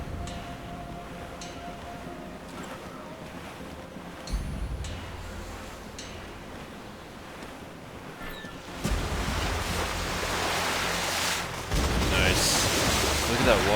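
Ocean waves and rushing sea water surge in the Assassin's Creed IV: Black Flag video game during sailing, a broad wash with wind that swells louder in the second half, as a voice speaks over it.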